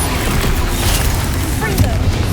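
An Incendio fire spell going off in Hogwarts Legacy, a dense, continuous burst of roaring flame and magical crackle during a duel, loud throughout with short sharp pops near the end.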